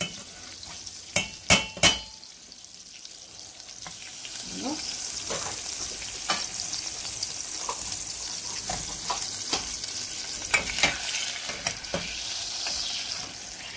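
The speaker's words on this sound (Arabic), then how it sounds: "غادي نخليو تذوب الزبده" Butter melts in a pan for béchamel sauce, with a soft continuous sizzle and intermittent stirring and scraping clicks; a few sharp knocks at the start.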